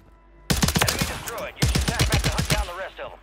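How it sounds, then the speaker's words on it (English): Akimbo shotguns firing in Warzone 3 on Rebirth Island: a dense string of sharp, loud blasts in quick succession, pausing briefly midway before another rapid volley. "I think those are the akimbo shotguns"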